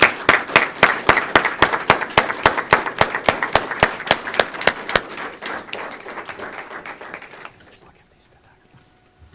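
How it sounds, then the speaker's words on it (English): Applause for volunteers receiving medals at a regular council meeting: a small group claps in a quick, even rhythm, close and loud at first, then thinning and fading out to near silence. "So a big round of applause for you."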